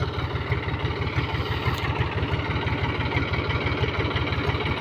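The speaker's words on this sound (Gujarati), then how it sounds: "ટ્રેક્ટર જૂનું છે પણ તાકાત જબર કરે છે" An old tractor engine idles with a steady, rapid thumping rhythm, close by and constant throughout, with no voices.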